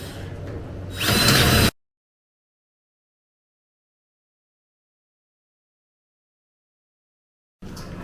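A power drill whirs into metal while a bumper is fitted to a horse trailer, a harsh grinding burst that rises briefly, then cuts out into long silence before the drill starts again near the end.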